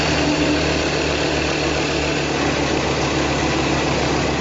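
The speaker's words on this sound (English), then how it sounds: "the engine starts, it idles at the same speed as the rest of us drive at" A Formula One car engine, which has no built-in starter motor, idling with a steady, dense, loud drone and low rumble throughout, no talk.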